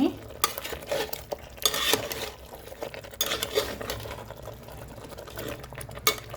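A spoon stirs turmeric through goat head curry in a pan, with continuous scraping and clinking strokes over a soft sizzle of frying.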